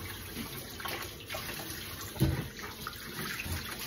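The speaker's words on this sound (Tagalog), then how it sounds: "Ang kawali naman ang ating hugasan." Running tap water splashes over a frying pan being washed at a kitchen sink after cooking Japanese curry, a steady close wash with a brief louder clatter midway.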